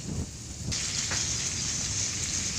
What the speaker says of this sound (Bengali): দেখো চিংড়ি মাছগুলো এখন ভেজে নিচ্ছি লবণ আর হলুদ দিয়ে